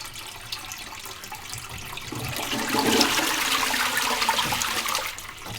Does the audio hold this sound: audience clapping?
no